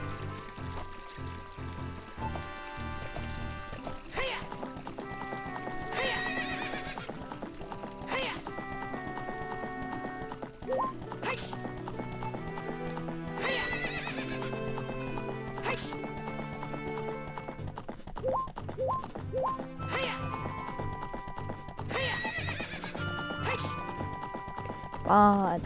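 Epona, the horse in the video game Ocarina of Time, galloping with steady game-audio hoof clip-clops and occasional neighs, set against music, with a person talking throughout.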